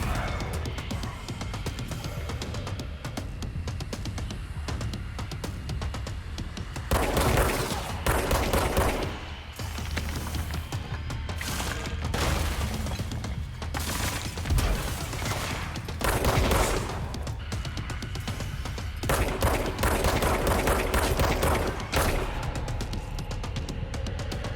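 Sustained video-game gunfire in Control, a dense, continuous fusillade of shots running the whole stretch with heavier bursts swelling every few seconds, loud and close with no talk over it.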